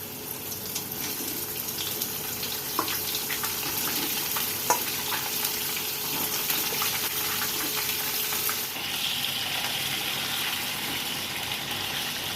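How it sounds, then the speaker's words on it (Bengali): Steady, close sizzling of pointed gourd frying in hot oil throughout, with occasional clinks and stirring scrapes. "এবার আমি পটলগুলো ভেজে নেবো"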